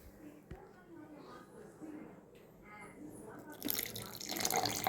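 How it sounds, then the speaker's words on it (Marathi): Half a cup of water pours into a mixer holding milk cream being churned for ghee, with a rising broadband rush during the last second or so, following a stretch of quiet background with faint voices. "आता ह्यात परत आपण अर्धा प्याला पाणी घालूया"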